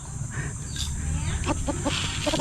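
A mestizo chicken, a long-kept backyard bird, clucks in a quick run of short, close calls near the end, over a steady background hum and faint insect buzz.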